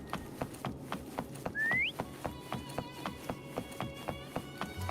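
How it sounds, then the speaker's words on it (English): In the video game Wuthering Waves, a single short, rising whistle calls a mount, heard over soft, rhythmic tapping music. "Try whistling."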